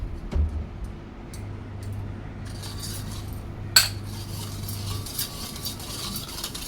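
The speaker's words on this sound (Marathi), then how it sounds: "चांगलं मिक्स करून घ्यायचं आहे।" A spoon clinks softly against a bowl while solkadi is mixed with sugar and salt, a few light taps and one sharper clink midway over a quiet low hum, with no talking.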